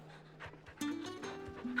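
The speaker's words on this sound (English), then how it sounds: "We petting the goddamn dog." A dog pants in quick rhythmic breaths while being petted in the Final Fantasy XVI video game, fairly quiet, with game music tones entering partway.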